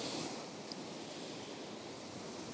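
Rough Pacific Ocean surf churns as a steady, dense wash of breaking waves, loud and continuous, with some wind buffeting the microphone.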